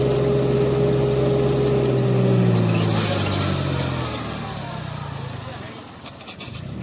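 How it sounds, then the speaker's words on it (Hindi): A tractor engine hums steadily in medium third gear while pulling a sugarcane earthing-up machine under load, a loud droning tone that dips and eases off toward the end, with someone talking over it. "कितना लोड मानता है ट्रैक्टर"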